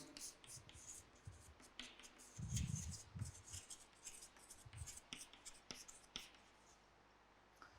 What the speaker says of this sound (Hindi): तो मैं नाइट्रेट की लिख देता हूँ।